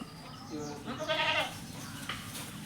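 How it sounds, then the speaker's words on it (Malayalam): A crossbred dairy goat that has kidded once gives a single wavering bleat at close range over a steady background hiss, with a fainter call following shortly after. "ഫസ്റ്റ് പ്രസവം കഴിഞ്ഞ നല്ലൊരു പാലാട്"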